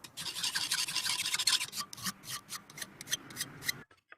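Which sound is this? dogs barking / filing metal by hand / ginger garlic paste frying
filing metal by hand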